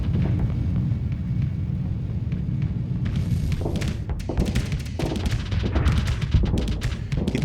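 Ship machine guns and light autocannons firing in the space combat game Starsector, a dense, steady stream of rapid thuds and impacts that thickens into a busier barrage partway through, loud and continuous with no talk.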